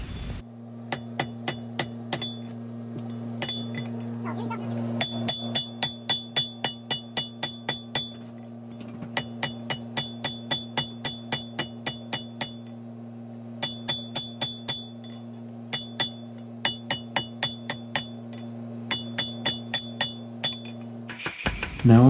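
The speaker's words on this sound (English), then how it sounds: "I then take it back to the anvil to adjust the position of the flattened section." Blacksmith hammering a steel bar on an anvil while shaping tongs, a steady series of sharp ringing metallic strikes in bursts with brief pauses, over a constant low machine hum from the workshop.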